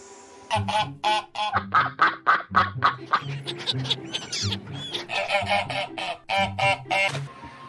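Ducks quacking in a rapid, noisy chorus of honking calls, close and loud, with overlapping voices and no talking.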